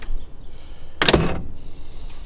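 Door of a 1928 Ford Model A pick-up hot rod opening and shutting, a single sharp, loud latch clunk and rattle, close up, between quiet stretches.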